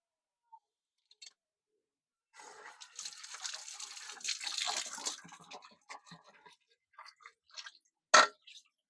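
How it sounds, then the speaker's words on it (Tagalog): Food is rinsed under a running kitchen tap: a few seconds of close splashing water, then scattered drips and small clinks in otherwise quiet surroundings. "hugasan muna natin ito."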